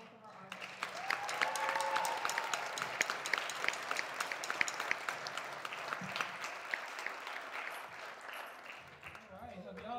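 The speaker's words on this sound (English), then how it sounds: "please give me a round of applause for both of our artists" An audience applauds two visual artists at a high school jazz festival concert, a sustained patter of clapping from a sizeable crowd with a few whoops and voices mixed in.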